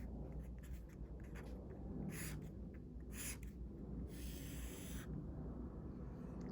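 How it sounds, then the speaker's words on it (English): A marker or pen draws a hundreds, tens and ones chart on a board, making several short, faint scratchy strokes against a low background hum, with no talk. "Let me draw my hundreds, tens, and ones chart"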